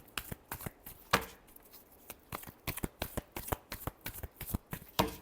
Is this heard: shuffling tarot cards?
yes